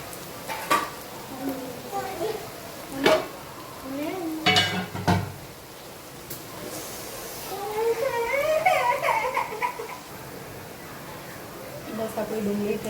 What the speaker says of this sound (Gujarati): બસ આ ડુંગળી થોડી ગુલાબી થઈ જાય એટલે આપણે કેપ્સિકમ એડ કરીશું.